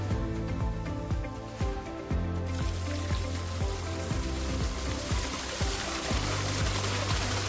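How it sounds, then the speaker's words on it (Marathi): Water trickles and gushes steadily through a farm pipeline fed by a solar pump motor on a guava farm with drip lines, a continuous close flow with scattered drip-like ticks and a low motor hum underneath. "चला, पाणी आलेलं आहे."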